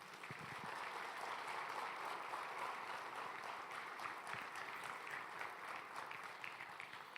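A church congregation claps during a service, steady dense applause held at an even level for several seconds, somewhat distant.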